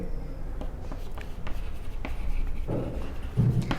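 Marker or chalk writing on a board during a physics lesson, a series of faint, close scratching and tapping strokes in an irregular rhythm over a quiet room background.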